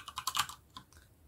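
Half a dozen quick, quiet keystrokes tap on a computer keyboard while code is entered during a scientific computing lecture, then fade into near silence.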